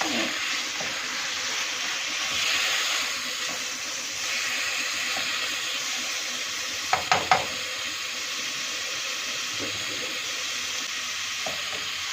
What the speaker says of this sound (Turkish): Biraz bu şekilde kavuruyoruz.